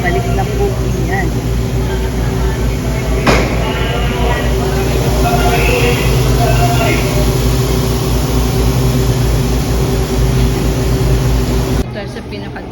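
An LRT Line 1 train pulls out of Dr. Santos Station with a loud, steady rumbling hum and a drone from the motors, heard close up on the platform, with one sharp click partway through.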